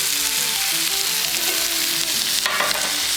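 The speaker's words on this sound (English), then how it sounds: "I'm gonna give these a couple minutes to get a nice sear on the outside" Chicken pieces sear in a hot frying pan for bourbon chicken, giving off a loud, steady sizzle and crackle up close with a brief clatter partway through.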